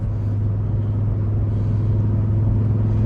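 A 1988 Audi Ur Quattro's engine runs with a steady, low, droning rumble, close and fairly loud, with no talk.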